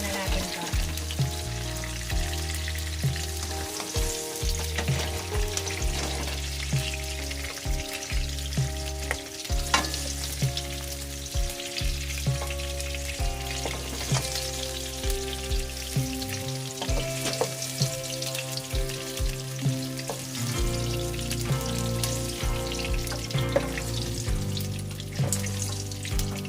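Pieces of blue marlin fish sizzle and fry steadily in a pan, a continuous hiss running through the whole stretch beneath louder background music.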